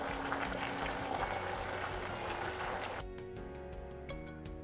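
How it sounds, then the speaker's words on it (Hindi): Noodles boiling in a pot of water on a gas stove give a steady, dense bubbling hiss. About three seconds in it thins to a quieter simmer with sharper, more separate pops. "अब नूडल्स को उबलते हुए लगभग 3 से 4 मिनट हो गए हैं"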